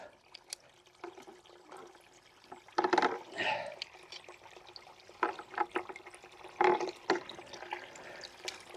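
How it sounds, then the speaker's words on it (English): Water spilling over the rim of a bucket set over the drive pipe of a ram pump out in the woods, a soft continuous trickle and slosh with a few louder splashing surges, fairly close and with no talking. "I want the water to actually come up and overflow over the bucket, so there's no air getting to the drive pipe"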